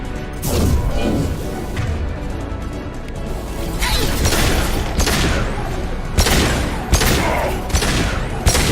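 Hijacked turret firing in the Mass Effect 2 video game, heard as dense, loud bursts of gunfire with sharp impacts and crashes repeating over a steady bed of combat noise and music.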